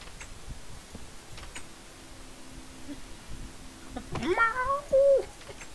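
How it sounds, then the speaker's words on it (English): A cat gives a whiny, rising meow that bends up and down over about a second near the end, close and fairly loud above a faint steady background hum. "He's the whiniest cat."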